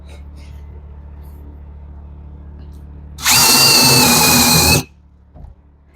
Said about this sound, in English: And drill all these other holes.